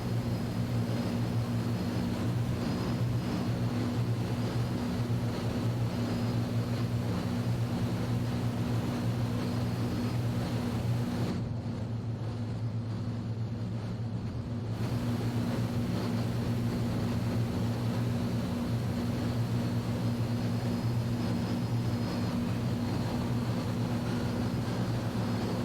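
Four-engined Avro Lancaster bomber droning steadily in a virtual airshow flight simulator, a loud continuous piston-engine hum with strong low harmonics across the whole stretch, briefly dulled midway and with no voices.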